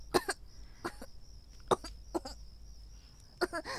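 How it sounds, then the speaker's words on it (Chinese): A man in a period costume drama coughs in a series of harsh, close bursts, some doubled, spread unevenly over a few seconds against a quiet background. "从猫头家回来就一直咳嗽。"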